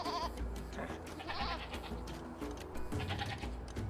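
Sheep in Age of Empires II bleating in short wavering calls, several bleats spread across the stretch over a busy game soundtrack, fairly quiet overall.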